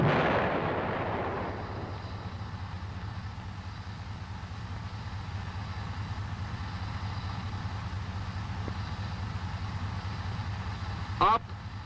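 Main gun of an M551 Sheridan armored reconnaissance vehicle fires once, a heavy boom at the start that fades into a long rumbling tail and a low engine drone, with no talking over it.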